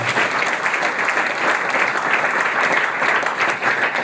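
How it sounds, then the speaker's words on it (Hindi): A seated audience in a Malad hall claps steadily and vigorously, a dense, continuous roar of many hands that stays at a constant level throughout. "इसके लिए ऊपर वाले के लिए एक बार जोरदार तालियां बजाएं।"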